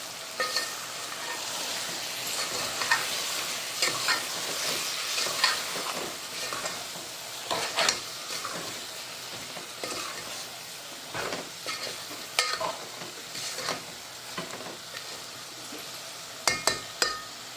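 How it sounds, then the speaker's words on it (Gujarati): A rice mixture being stirred in a pan on the stove, with steady sizzling and repeated scraping and clinking of a utensil against the pan, alone without talk. "રાઈસ હવે મિક્સ કરી લેવાનું"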